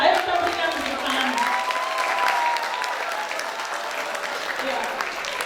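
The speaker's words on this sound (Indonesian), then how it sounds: "Ayo kita berikan tepuk tangan." Audience applause at a commemoration of the TRIP battle in Malang, a loud, sustained wash of clapping with a few voices and a faint cheer audible underneath.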